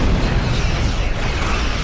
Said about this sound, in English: they're ejecting plasma to simulate damage. They also have simulated explosions.